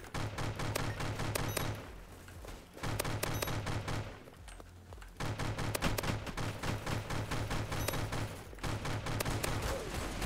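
Rapid bursts of automatic gunfire from a Roblox Arsenal-style shooter game, dense repeated volleys with brief pauses between them, loud and continuous with no talking.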